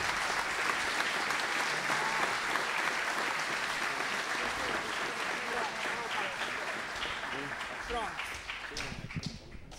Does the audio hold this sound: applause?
yes